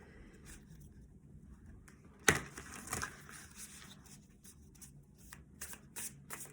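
Tarot cards are shuffled by hand, a sharp riffle burst followed by softer repeated card flicks and slides, close and fairly quiet with no talking.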